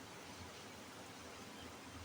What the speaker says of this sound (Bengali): বেশ ভালো জোরে বৃষ্টি এসছে, আওয়াজটাও বেশ মিষ্টি লাগছে।